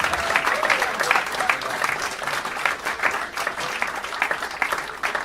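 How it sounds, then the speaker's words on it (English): Steady applause from an audience, many hands clapping together in a dense, continuous wash that holds for several seconds. "All right, let's applaud."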